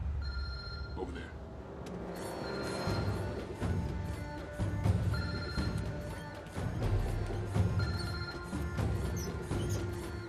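A phone rings repeatedly after being called, heard at moderate loudness amid film-scene ambience with music and background noise, close to a search team homing in on the signal.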